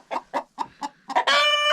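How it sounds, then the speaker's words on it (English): Chickens in a coop let out a quick series of about five short, close clucks, followed by a longer, drawn-out squawk. "What are you guys clucking at?"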